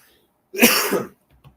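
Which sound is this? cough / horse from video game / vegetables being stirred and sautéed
cough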